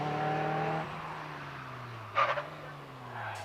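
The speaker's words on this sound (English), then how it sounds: "513 there is John Clark in the 1600 TC Caterham 7" A 1600 TC Caterham 7 races up the Prescott hillclimb, its engine note loud and buzzing before dropping to a lower, steadier drone as the car moves away. A few brief sharp bursts cut in partway through.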